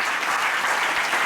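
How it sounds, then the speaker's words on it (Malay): Loud, full applause for teachers at a Malaysian primary school event, a continuous wash of many hands clapping at steady strength from start to end. "Tepuk tangan kepada guru mata pelajaran tahun"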